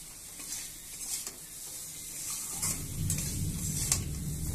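Tangra fish curry with potatoes and salt is sautéed gently in a pan. There is a steady close sizzle under soft stirring scrapes, and it grows louder and denser toward the end with no talking.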